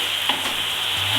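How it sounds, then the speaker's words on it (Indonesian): Ingredients for mie gomak, a Batak noodle dish, sizzle steadily in hot oil, a constant close-up frying hiss with faint stirring scrapes and no voices. "Ini minyaknya sudah panas. Ini kita goreng sampai wangi"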